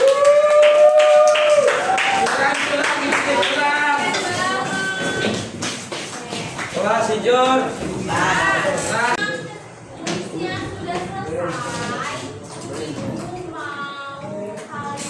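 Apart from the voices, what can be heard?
classroom audience clapping for students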